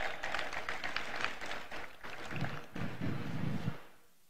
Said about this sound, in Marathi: त्या उन्हात बसलेल्या लोकांसाठी टाळ्या वाजवा.